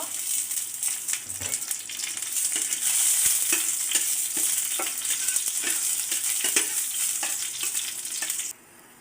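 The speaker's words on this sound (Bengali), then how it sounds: "আমি এখন আগে শুকনো মরিচগুলো ভেজে নেব" Dried red chilies crackle and sizzle in hot soybean oil, a continuous bright frying hiss with scattered pops, fairly loud and close, ending abruptly near the finish.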